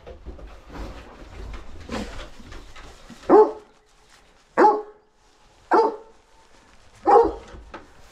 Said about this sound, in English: Don't you bark at me.